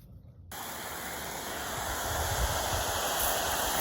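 A hissing spray from a pop-up sprinkler starts abruptly after a moment of quiet and then rushes on steadily, growing slightly louder.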